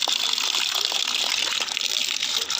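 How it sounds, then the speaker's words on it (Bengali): Taro leaves are washed in running water, a steady close gush with splashing that fills the whole short stretch without pauses. "কচু পাতাগুলো ভালো করে ধুতে হবে"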